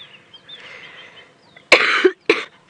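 A safari crew member with a cold gives two loud, harsh coughs close to the microphone during an early-morning wildlife drive, following faint bird calls and quiet outdoor background.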